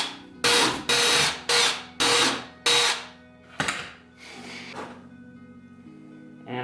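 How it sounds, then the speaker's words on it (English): A power drill bores holes for Aerocatch hood pins, six or seven sharp bursts of whining drilling in quick succession, each loud and close, the last few shorter and weaker, with no talk. "I'll probably just drill with this thing right on here and just use it as a guide."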